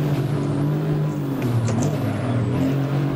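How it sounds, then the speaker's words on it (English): A Mercedes-AMG GT R Black Series in Assetto Corsa, racing at Hockenheim, holds a steady, loud engine drone that rises and falls in pitch with throttle and gear changes, with no pause or break. "get on the power nice and early. See how early I'm on the power there? Short shift into fourth"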